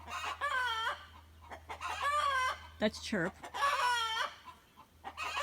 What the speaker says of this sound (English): you got the roosters out here like cheering them on by screaming outside of the chicken coop